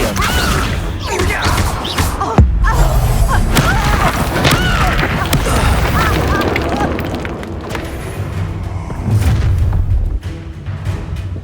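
An Incendio fire spell in the Hogwarts Legacy video game bursts with heavy booming blasts and crashing impacts amid combat, with a sharp hit near the start and a second surge later, while characters shout over it.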